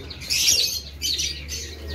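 Caged doves chirp and call in bright overlapping bursts, close and fairly loud, with a faint rustle of movement underneath.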